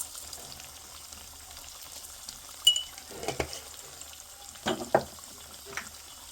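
Cumin seeds fry in a pan with a soft, continuous sizzle in the background. A few brief louder crackles and stirring scrapes rise above it now and then.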